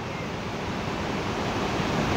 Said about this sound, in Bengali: নদীর আওয়াজটা শোনো,